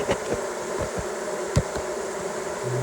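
Bees buzz faintly around a trap-out cone at a hive, a thin steady drone with a few close passes standing out briefly.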